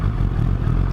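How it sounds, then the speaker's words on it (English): Close, loud, throaty burble from a 1000cc superbike's exhaust, with a dense, rapid low-pitched pulse running continuously through the moment. "Oh, you can hear this exhaust quickly."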